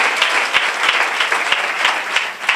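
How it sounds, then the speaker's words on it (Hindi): A church congregation applauding loudly during a pastor's sermon, dense sustained clapping from many hands that stays strong throughout. "जिनको समझ में आ रही है वे जोरदार तालियां बजाएंगे।"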